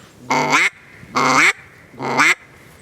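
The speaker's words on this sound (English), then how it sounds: "It's not rocket science blowing a duck call." A duck call is blown in three evenly spaced, loud, close raspy quacking blasts, each about half a second long, with short quiet gaps between them and no talking.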